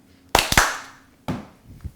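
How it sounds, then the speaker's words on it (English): Hands clap sharply while a flop ball is tossed and caught: a quick cluster of two or three close claps, a pause, then another clap and a softer catch, crisp and near. "you throw it up in the air, you clap once, and you catch it"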